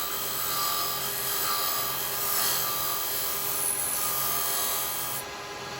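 A carbide chisel taking a shear cut on wood turning on a lathe, a steady rasping, whirring hiss close up with a low motor hum, fading slightly as the cut ends.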